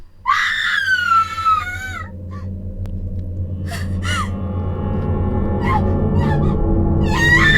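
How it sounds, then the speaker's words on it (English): A character screams in the horror video game Corpse Party: Book of Shadows, a long shrill cry followed by gasps and shorter wavering screams over a low rumbling ambient drone. "Why was Emmy screaming?"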